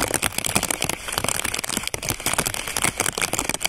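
Dense rain patters and crackles on a plastic bag close by while camping, a steady crinkly rattle with no voices.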